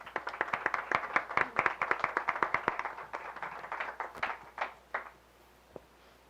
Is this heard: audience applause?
yes